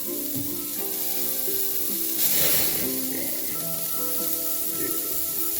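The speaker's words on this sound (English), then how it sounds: "Just hear that sizzle." Steady, crackling sizzle of burger patties frying on a grill directly over open flames, close and continuous, with a brief louder hissing burst partway through.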